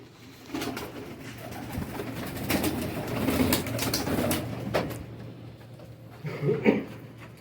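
Pigeons of a Pakistani breed cooing nearby, with soft repeated low coos and some fluttering and rustling against a noisy background, and a louder coo near the end.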